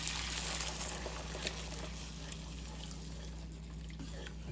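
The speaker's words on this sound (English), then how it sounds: "Alright, so we have our coconut. I'm just gonna pour it in there." Coconut milk pours into a cooking pot in a steady, close liquid stream, a continuous soft rushing pour with no break.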